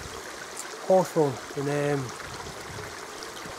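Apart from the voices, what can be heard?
small stream flowing through a wood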